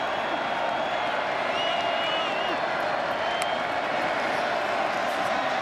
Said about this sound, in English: Now the crowd once again getting into it.